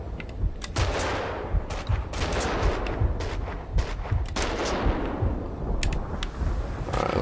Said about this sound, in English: let me start fucking just shooting these guys up